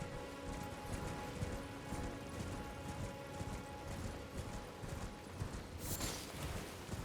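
Horse hooves clip-clop in a steady, rhythmic trot for several seconds over a busy background of game noise, with a brief bright burst near the end.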